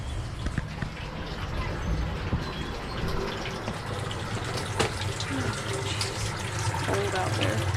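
Hot tap water running into a sink while rinsing a spiral tie-dye tee, a steady splashing rush with occasional drips and handling sounds, close, with faint voice underneath.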